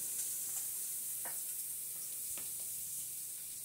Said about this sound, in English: The leeks go in the oil.